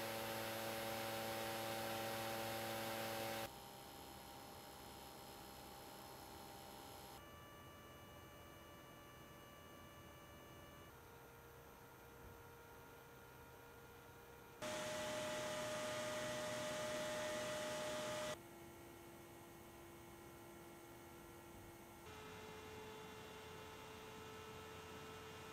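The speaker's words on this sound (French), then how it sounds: "on va mesurer les différents niveaux sonores sur l'ensemble des ventilateurs" Small 40mm 3D printer cooling fans run one after another in steady segments of whirring hum, each with its own pitch and loudness, some brighter and noisier than others, with no talking.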